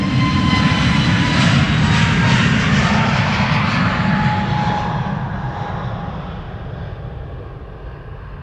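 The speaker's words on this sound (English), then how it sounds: "Air Europa will be next to take off to Madrid, a 7879 Dreamliner" An Air Europa Boeing 787-9 Dreamliner roars during its takeoff run at Amsterdam Schiphol, a loud, sustained jet-engine rumble with a whining tone that slowly fades as the aircraft pulls away.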